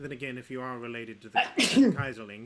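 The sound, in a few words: sneeze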